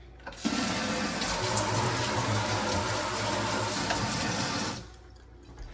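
Water gushes steadily from a brand-new kitchen sink faucet into a deep sink, a loud, close, continuous rush that starts abruptly and stops after several seconds, with no talking.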